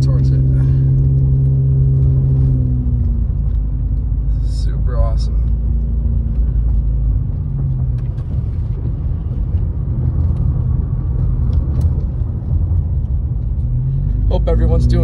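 Car driving on a road near Big Bear Lake in rainy weather, with a loud steady low engine and road rumble heard from inside the vehicle, continuous throughout.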